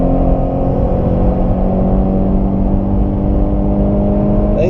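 A mostly stock Scion FR-S with a TRD exhaust accelerates with a steady, loud engine drone and a whirring hum throughout, heard continuously without any talking.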